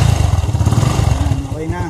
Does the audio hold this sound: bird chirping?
no